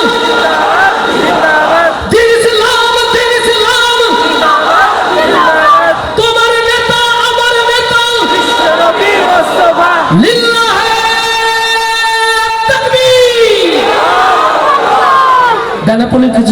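A large crowd at an Islamic gathering roars a takbir response in repeated loud collective shouts, rising between stretches of a speaker's amplified chanting over a sustained reverberant hall-like bed.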